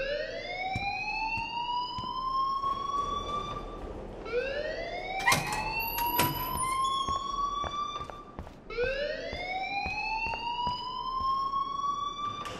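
A fire alarm wails inside the video game Life Is Strange, a loud rising whoop that sweeps upward and repeats three times in steady cycles, with scattered clicks and knocks underneath.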